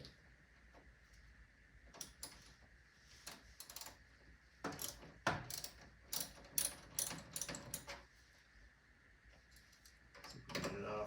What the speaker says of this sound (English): with the 10 millimeter, go ahead and just disconnect this negative terminal